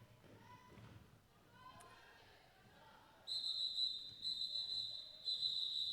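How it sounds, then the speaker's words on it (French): A referee's whistle ends a two-minute jam at a roller derby game, sounding several shrill repeated blasts after quieter arena noise and a commentator's talk. "la fin du jam a été sifflée car nous sommes allés au bout des 2 minutes"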